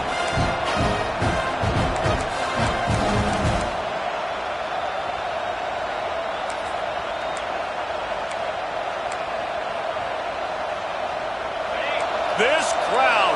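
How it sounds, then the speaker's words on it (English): A football stadium crowd roars loudly and steadily for the whole stretch, full-throated and continuous, with rhythmic thumping beats through the first few seconds before settling into an unbroken wall of cheering. "This crowd, full throat, splitting the eardrums and letting them know it's going to be a long day."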